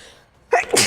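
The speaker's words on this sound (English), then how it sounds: "Who sneezed towards my cat?" A single quick human sneeze bursts out sharply after a brief quiet moment, close and loud.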